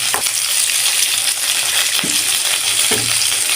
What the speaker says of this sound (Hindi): इसी तरह से तमाम फिश को फ्राई कर लेंगे